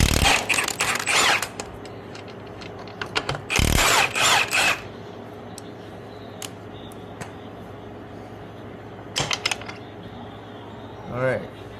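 Ratchet wrench snugging the 17 mm bolts on Suzuki DRZ400 motorcycle lowering links, with clusters of quick clicking bursts near the start and around four seconds, then quieter work noise and a brief sound near the end.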